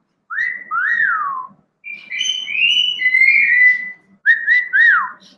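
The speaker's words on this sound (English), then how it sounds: "do I want to reinforce that whistle?" Bird whistling in three bursts of clear, swooping notes that rise and fall, close by with short pauses between phrases.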